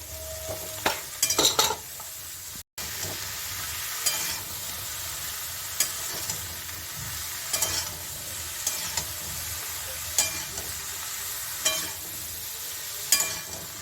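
Ridge gourd fries in a pan with turmeric, a steady sizzle broken by repeated scraping stirs of a spatula against the pan, close and unvoiced.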